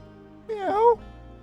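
A single short meow from a cat in the Chrono Cross video game, clear and close, a brief rising-falling cry of about half a second with quiet background around it.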